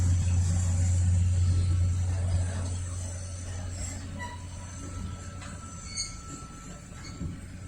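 A locomotive hauls a long line of rail cars through the yard at the Cathcart rail repair shop in Lynchburg, Virginia: a steady low rumble with faint metallic wheel squeals and clanks.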